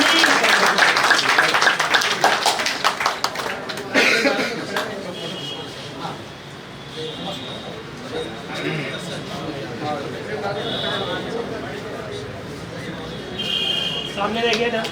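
An audience at a school farewell ceremony for a retiring Hindi lecturer claps loudly at first, then the applause fades into scattered hand claps under ongoing talk and background crowd noise.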